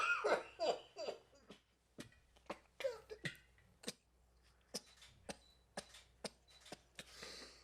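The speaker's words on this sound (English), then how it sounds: "Embrace the cough." Repeated coughing fits come in quick bursts, close and loud, running through the whole stretch with breathy gasps between them. No speech is heard.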